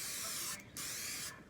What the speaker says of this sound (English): So I'm just going to spray a bunch of it there.